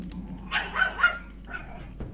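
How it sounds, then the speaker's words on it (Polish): A dog in the video game Gothic 2 gives a short run of sharp barks close up, then one more bark after a brief pause, over a low background hum. "co za głupi pies, Boże!"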